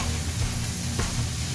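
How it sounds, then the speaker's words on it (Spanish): Bacon sizzles in a hot pan while alambres fry with vegetables, a steady close crackling hiss that runs without a break throughout. "Aquí ya le ponemos el tocino."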